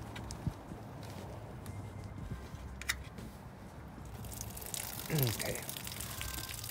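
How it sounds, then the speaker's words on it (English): Antifreeze pours out of the open drain valve on a Forest River Flagstaff Micro Lite camper during winterizing, a faint wet splashing that swells near the end, with a brief spoken word. "So that is the antifreeze just pouring out, and that should cover that valve"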